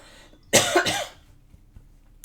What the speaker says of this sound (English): So here I am, coughing on video